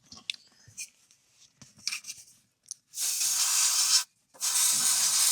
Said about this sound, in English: I'm going to spray that just because it's going to be easier.